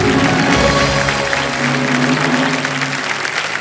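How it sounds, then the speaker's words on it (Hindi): Studio audience applause on an Indian TV quiz show set, a dense steady clatter of many hands that stays loud throughout and tapers only slightly toward the end, with no voices heard over it. "वाह, ताली बज गई है"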